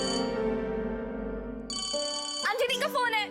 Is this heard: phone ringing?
yes